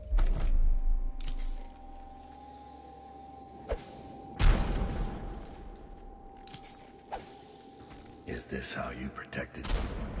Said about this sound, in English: Let's grenade him, why not?